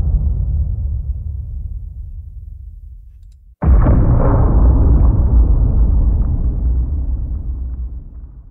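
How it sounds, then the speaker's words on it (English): A cinematic trailer boom effect: after a quiet, fading low rumble, a sudden loud, heavy boom hits and rolls on as a long, dense, rumbling decay that slowly fades. "Let's go into booms. I'll play maybe 2 or 3."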